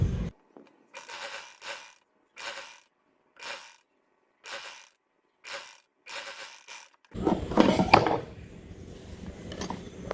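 A sewing machine stitching an umbrella cut dress, with short mechanical whirring bursts repeated at uneven intervals, then a denser, louder run of rattling stitching near the end.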